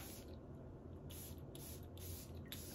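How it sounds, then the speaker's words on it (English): Several short bursts from a perfume spray bottle atomizing BDK Velvet Tonka fragrance, about five quick faint sprays in an irregular rhythm over a low steady background hum. "So let's go ahead and spray."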